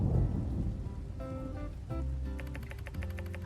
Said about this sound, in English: A thunderstorm in Sandrock. What an awful day for that. It's really coming down out there.